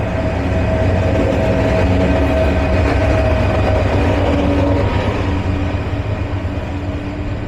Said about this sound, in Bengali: 27 শ্রেণীর লোকোমোটিভ নিয়ে বের হয়ে গেল কর্ণফুলী কমিউটার ঢাকা বিমানবন্দর থেকে।